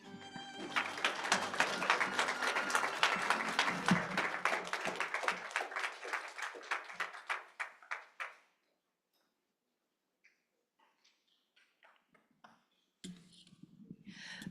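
An audience at a poetry reading event applauds, dense clapping swelling and then tapering off over about eight seconds, followed by near silence with a few scattered taps and clicks, then a short return of room sound.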